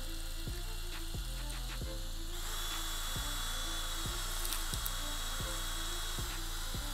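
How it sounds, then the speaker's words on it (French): A drill spins a bit inside a bicycle tyre to wind out liquid tubeless sealant, giving a steady close-up motor whir with a regular low thumping roughly twice a second that grows brighter partway through. "si je la fais tourner avec la mèche, ça devrait attraper du liquide et venir l'enrouler autour de la mèche"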